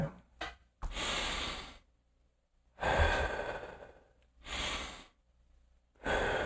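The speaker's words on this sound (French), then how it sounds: "breathe in, breathe out." Slow, audible breaths in and out, three long airy exhales and inhales alternating with short pauses, close and alone.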